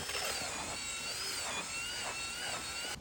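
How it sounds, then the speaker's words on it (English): A power drill with a mixing wheel whirs steadily at high speed for the whole stretch, its motor pitch wavering slightly as it churns thick concrete. "I use a drill with a mixing wheel."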